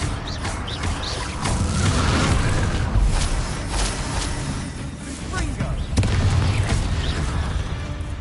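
Repeated Confringo spell explosions from Hogwarts Legacy boom and crackle in quick succession over dense game noise, with spell effects and voices mixed throughout.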